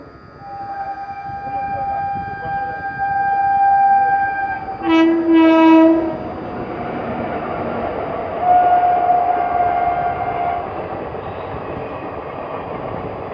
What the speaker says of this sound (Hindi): rapid rail